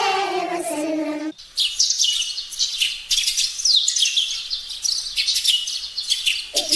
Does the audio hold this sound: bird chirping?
yes